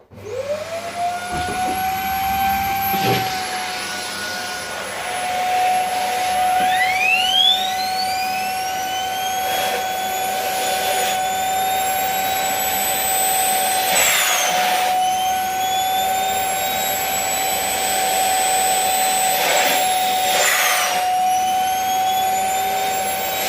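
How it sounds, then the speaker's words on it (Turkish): A Philips FC9081 vacuum cleaner whines steadily at close range, its pitch rising and dipping as the nozzle moves and briefly gets blocked. "Bunu temizledikten sonra bu içini süpürge makinesiyle çekelim."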